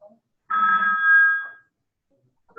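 A phone gives a single electronic ring lasting about a second during an online call, loud and clear against near silence.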